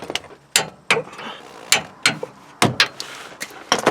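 Wrench work on a stabilizer bar bushing bolt of a Nissan Titan, torqued to 94 foot-pounds: a series of sharp, close ratcheting clicks in irregular bursts, with faint metallic rattles between them and no talking.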